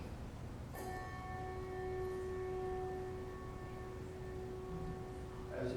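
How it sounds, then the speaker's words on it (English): A single handbell is struck and rings on with a long, sustained shimmering tone that slowly fades, quiet and close. "A bell, we do that with motion."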